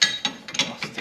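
A wrench works bolts on a Polaris General 1000 during wheel bearing removal, with four or five quick metallic ratcheting clicks in a steady rhythm, close and crisp.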